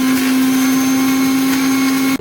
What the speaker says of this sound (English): Transfer it into a mixing jar and grind it.